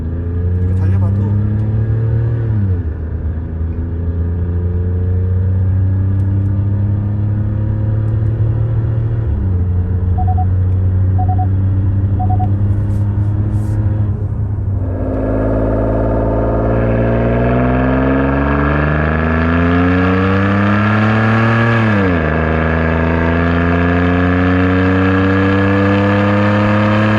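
Hyundai Palisade SUV fitted with a custom variable exhaust muffler, driving with a loud, steady low engine drone that climbs and falls through repeated accelerations and gear shifts, heard from inside the cabin.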